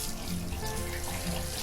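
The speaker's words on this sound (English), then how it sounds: "we have running water" Cold water pours from a newly installed mixer tap into a sink, a steady, close hiss and splash that runs unbroken throughout with no talking.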